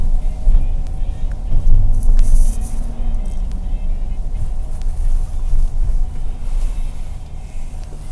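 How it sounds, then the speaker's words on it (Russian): Cars pass along a city street with apartment complexes nearby, a steady rumbling traffic wash with one vehicle swelling louder early on, heard from the roadside with a little background talk. "Есть какие-то машины"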